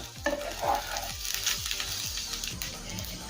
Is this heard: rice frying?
yes